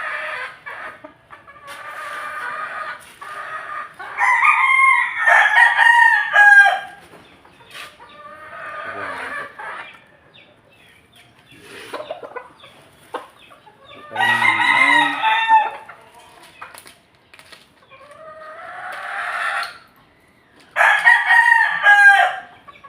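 Backyard chickens in the Philippines cluck and crow, with several loud rooster crows rising and falling in bursts separated by quieter clucking and short pauses.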